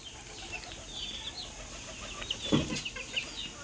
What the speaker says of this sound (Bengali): আর আমাদের দেশি মোরগ মুরগি সবগুলোই এখানেই আছে